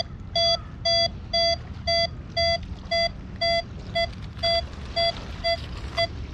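A Nexus MP V2 metal detector, set to a very low discrimination and swept over deep iron, gives a steady run of about thirteen evenly spaced, bright electronic beeps, clear and close.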